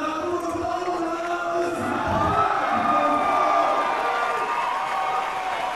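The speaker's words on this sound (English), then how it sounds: "Joe, our announcer, getting the crowd fired up" A crowd at a title fight night cheers and shouts in a sustained, dense roar that swells in the middle, with an announcer's voice faintly mixed in.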